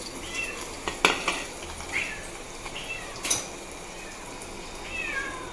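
A kitten meows several times in short, thin, high calls, spread unevenly near a kitchen where faint clinks and a soft background sizzle of frying carry on, with no talk.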